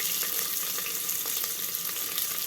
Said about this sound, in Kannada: ಈಗ ಇದನ್ನು ಸ್ವಲ್ಪ ಚೆನ್ನಾಗಿ ಬಾಡಿಸ್ಕೊಳ್ಳೋಣ